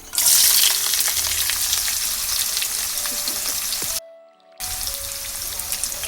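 Finely chopped onions sautéing in a hot pan with popped seasoning, a loud dense sizzle that eases slightly, cuts out briefly near the end, then returns as a steady hiss with occasional stirring scrapes.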